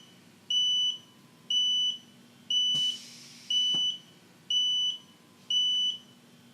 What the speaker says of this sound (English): You hear those beeps.